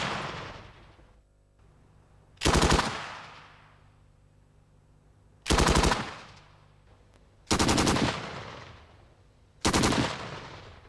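A Minimi light machine gun fires short bursts into a double-layer sandbag wall: four loud, sharp volleys spaced a couple of seconds apart, each ringing out and fading with a long echo between bursts, no voices.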